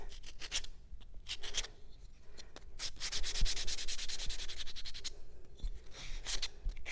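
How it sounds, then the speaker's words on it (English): Sandpaper rubs along the edges of small wooden skateboard-shaped craft parts in repeated quick strokes, a close, dry scratching rasp that comes in bursts with brief pauses between them. "We're just going to sand all these edges."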